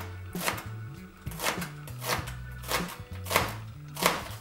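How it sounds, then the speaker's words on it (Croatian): Onions being chopped with a knife on a cutting board, a steady series of close, crisp chopping strikes with low board thuds, no talk over them. "Luk treba nasjeckati, ne baš toliko sitno."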